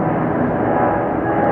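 Boeing 757 airliner departing Atlanta airport, a loud steady roar of jet engines filling the whole clip without a break, heard alone with no voices.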